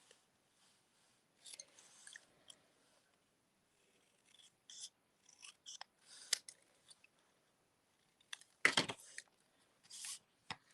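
Scissors fussy cut a paper sentiment for a stamped card, making sparse, quiet, close snips and paper rustles separated by near silence.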